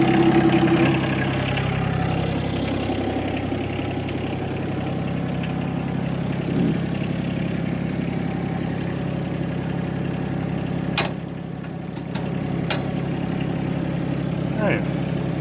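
A John Deere 17G mini excavator's diesel engine idles steadily nearby, a low even rumble that continues throughout with a few brief clicks and knocks over it.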